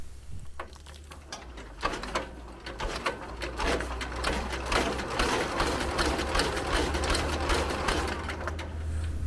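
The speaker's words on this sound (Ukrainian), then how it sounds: "покажу, як вона крутить холодний двигун" A cold walk-behind tractor engine in freezing weather is cranked over without firing, a fast rhythmic mechanical churning with repeated compression pulses, fairly close and moderately quiet.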